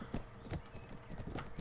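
A horse in the video game AD1257 gallops with quick, steady clip-clop hoofbeats, loud and close, and a whinny runs under the rhythm.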